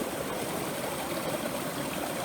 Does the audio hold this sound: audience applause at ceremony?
no